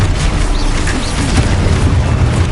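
Spell explosion in the Hogwarts Legacy video game: a dense, continuous booming blast with rumbling low end and crackling bursts, loud and steady throughout.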